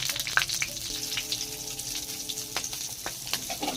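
Continuous sizzling of paneer frying in oil, with small pops and a faint tonal hum in the middle.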